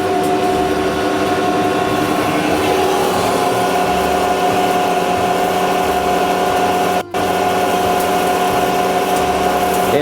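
A Colchester lathe running on its normal power feed gives off a steady, close mechanical hum with a constant whine, continuous and unbroken apart from one very brief dropout.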